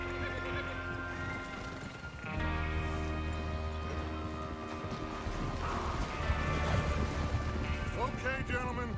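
Horse hooves clip-clop at a steady trot over a musical backdrop, with occasional mechanical clanks and faint voices, as riders head out to rob a train in the video game Red Dead Redemption 2.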